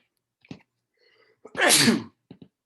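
A single loud sneeze up close, with a quick intake of breath before it and a few faint small sounds around it.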